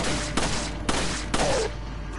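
Gunfire in the video game Resident Evil 4: three sharp, evenly spaced shots about half a second apart ring out over a steady game background hum, with a brief tonal chime after the third.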